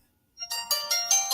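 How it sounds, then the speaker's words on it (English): A phone ringtone starts after a brief silence, a bright electronic melody of repeated pulsing tones, loud and close with no talking over it. "And I've got a phone call."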